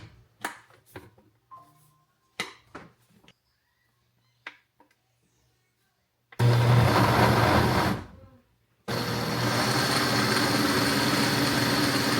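After some scattered clattering, a blender making a turmeric drink roars on loudly, stops, then runs again as a continuous high whirring noise.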